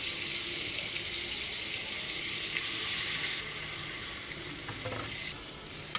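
Meat stirred and fried in a pan with spices, a continuous close sizzle with scraping stirs, brightening partway through and ending with a small knock.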